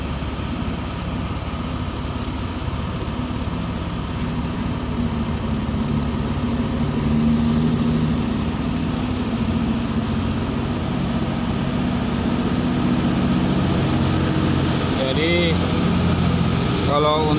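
A Shacman 10-wheel truck with an 11-speed F2000 transmission idles steadily at close range while the driver shifts gears, the engine's low drone continuous throughout with a brief mechanical clunk late on.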